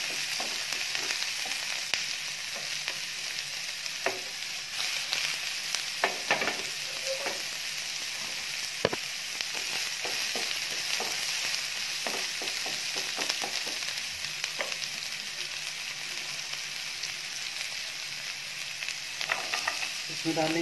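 Onions frying in a pan for spicy masala Maggi noodles, a steady bright sizzle running throughout with occasional clicks and scrapes of stirring, close and alone.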